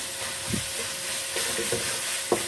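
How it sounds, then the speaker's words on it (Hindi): Steady sizzling of minced meat (keema) frying with onions in a pan for aloo keema, with occasional scraping and stirring sounds close by. "कीमे को हमने देखा अच्छी तरह से फ्राई कर लिया है, भून लिया है प्याज में"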